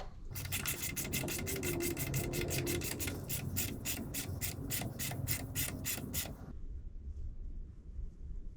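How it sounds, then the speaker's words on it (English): Ratchet driving a 24mm socket on an installer nut to press a bearing into the front cover of a 6.4 Powerstroke: a rapid regular series of clicks for several seconds close by, then stopping. "our little bearing, and the installer nut. And then a 24mm socket. And, oh, just press it into place."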